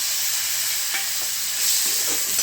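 Chopped tomato dropped into a pan with onions frying in oil, sizzling steadily and close, with some stirring scrapes over a constant hiss.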